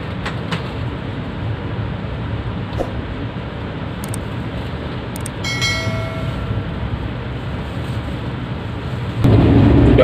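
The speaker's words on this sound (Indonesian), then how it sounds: "kereta api Wijaya Kusuma diberangkatkan dari stasiun Probolinggo" Wijayakusuma passenger train pulling away from Probolinggo station in Indonesia, heard as a steady low rumble and rolling noise from on board, with a few faint clicks and a louder surge near the end.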